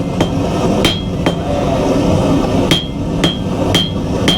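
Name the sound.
blacksmith forging, hammer striking hot metal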